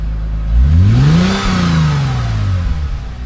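A V6 car engine fitted with a $100 aftermarket exhaust revs up and falls back in one smooth rise and drop, loud and close, with a deep exhaust note and no talking.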